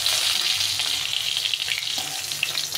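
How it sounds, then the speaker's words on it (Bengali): Rohu fish pieces frying in oil on a home balcony stove, a steady close crackling sizzle with light stirring scrapes, loud and continuous with no voices. "মাছটা ভাজা হয়ে গেছে, মাছটা উঠিয়ে নেব।"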